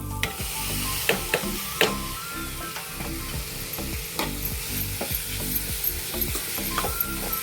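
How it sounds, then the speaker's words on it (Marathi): Ghol bhaji (purslane) is tipped into dal in a pan and stirred, giving a steady close sizzle broken by repeated scraping strokes of a spoon against the pan. "आता ह्याच्यातच मी ही भाजी घालून घेते"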